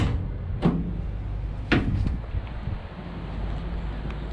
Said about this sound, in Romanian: Ușile se deschid în 2 poziții.